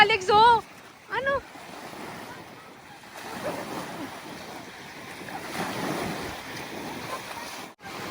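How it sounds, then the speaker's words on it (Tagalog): Strong seaside wind buffeting the microphone alongside surf, with people talking over it at the start and a low, gusty roar running throughout. "Sobrang lakas ng hangin."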